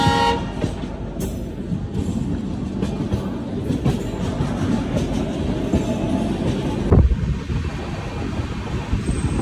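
The Vivek Express passenger train rolls along with a steady, dense rumble and rhythmic wheel clatter close by, swelling briefly in a louder jolt about two-thirds of the way through.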